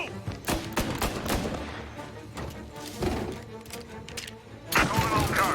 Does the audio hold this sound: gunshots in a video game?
yes